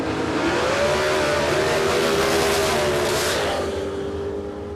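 Super Sedan class drag racing car launching at Warwick Dragway: a loud, steady engine roar rising in pitch as it accelerates away, sustained throughout and fading slightly at the end, no voices.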